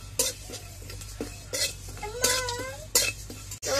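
Cumin and panch phoron spices dry-roasting in a pan, stirred with a metal spoon that scrapes and clinks in several distinct strokes, a faint sizzle beneath; no talking.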